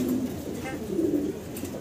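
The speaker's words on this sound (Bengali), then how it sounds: "অনেকদিন পরে খুব সুন্দর কোয়ালিটির এক জোড়া কবুতর দেখতে" A pair of fancy pigeons coo nearby in a few low, throaty bursts over a faint background murmur.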